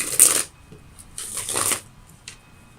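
Tarot cards shuffled for a reading, with two longer riffling bursts and a brief flick at the end, close and fairly quiet with no talk.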